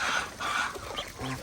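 Several chickens cluck close by in short, uneven bursts, with a few sharper calls toward the end.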